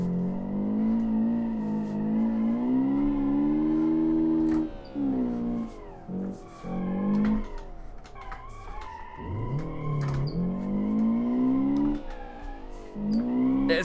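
A drift-version car driven sideways in the BeamNG video game, its engine droning loud and steady, revving up and down, with skidding tire noise throughout.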